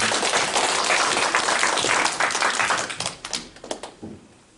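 Loud crowd applause fills the space, then thins into scattered individual claps that fade out.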